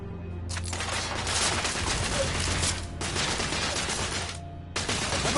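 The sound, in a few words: heavy gunfire in The Order: 1886 video game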